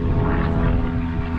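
A propeller airplane passes overhead in rural North Wales near a country church, a steady loud droning engine rumble filling the whole short stretch with no talking.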